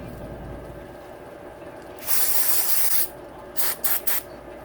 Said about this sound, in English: Where's my brake cleaner? Same thing, clean thread.